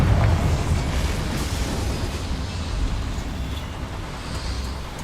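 Confringo blasting spell explosion in the video game Hogwarts Legacy, a loud booming blast whose deep rumble rolls on steadily for several seconds with no talk.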